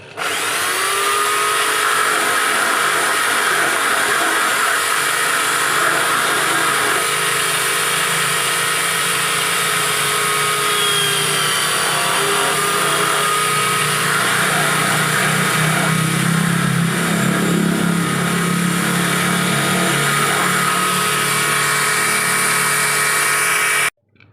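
A power drill whines steadily and loudly for the whole stretch while drilling a coconut shell to make a ring, its pitch dipping slightly as it bites into the hard shell, with no talking.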